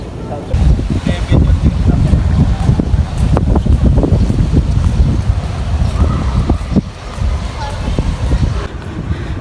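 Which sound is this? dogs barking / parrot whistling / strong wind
strong wind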